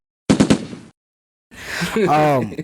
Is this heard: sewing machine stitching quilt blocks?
no